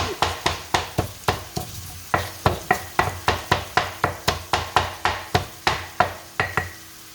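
Dried chili peppers are pounded in a pan to break them up for spicy shrimp and pork fried rice: about two dozen sharp, evenly spaced knocks in a steady rhythm, close and loud, with no voices.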